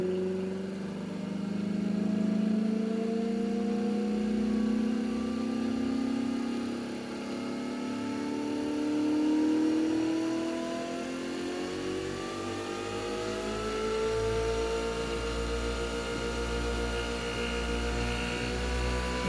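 A magnetic generator's drive motor rising in speed, a steady mechanical whine and hum climbing gradually in pitch over a constant low drone, loud and continuous with no voices.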